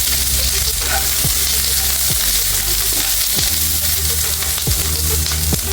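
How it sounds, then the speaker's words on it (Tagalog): Lots of onions sautéing in a hot pan give a loud, steady sizzle and crackle, with a few sharp scraping stirs of a utensil spaced through it. "Maggisa na po tayo. Maraming sibuyas lang po."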